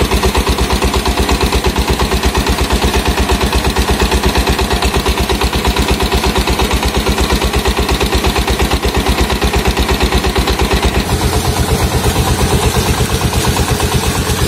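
A 20 HP diesel engine drives a 6-inch Intan water pump for irrigating crops, producing a loud, steady, rapid thumping chug that runs unbroken throughout, with a slight shift in tone near the end.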